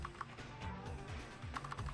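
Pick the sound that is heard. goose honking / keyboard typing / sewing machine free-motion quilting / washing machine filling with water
keyboard typing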